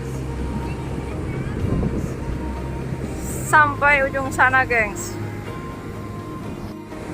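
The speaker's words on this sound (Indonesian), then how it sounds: "terdengar deburan ombak dan juga suara angin yang begitu kencang" Strong wind buffets the microphone on a wide beach at Pantai Depok, Yogyakarta, with a steady low roar of crashing ocean surf beneath a person speaking briefly in the middle.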